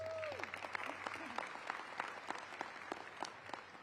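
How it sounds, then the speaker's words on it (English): A crowd at a mayoral hospital announcement claps steadily and moderately loud, with sharp individual claps audible through the wash of applause; a faint tone fades at the start. "Let's give that a round of applause."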